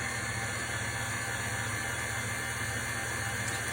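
A stand mixer beats butter into warm, steaming pastry cream, a constant close mechanical whir with a fine rattling texture and steady loudness throughout.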